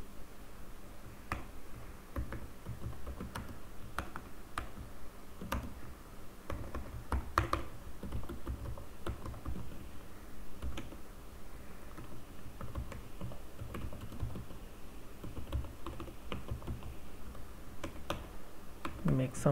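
Code being typed on a computer keyboard during a SystemVerilog programming session: steady, continuous key clicks at moderate level over a muffled room background for the whole stretch.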